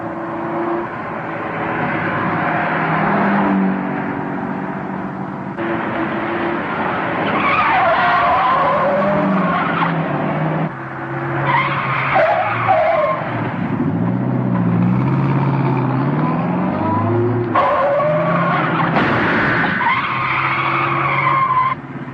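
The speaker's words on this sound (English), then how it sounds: "Take the next corner easy and then step on it." A 1940s car speeds around a corner, tires squealing and skidding in long wailing sweeps over a steady engine roar, loud and continuous throughout a chase scene.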